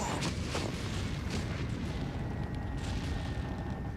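Grenade explosions in a video game come as a dense cluster of heavy, booming bursts with rumbling low-end rolling throughout the short stretch.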